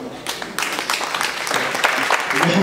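A congregation at a Sunday church service bursts into clapping, a dense, rising roar of many hands that swells and holds close and loud, with some voices mixed into the crowd noise.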